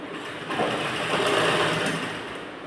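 A sewing machine runs a continuous stitching line on a net fabric blouse, a steady close whir lasting under three seconds.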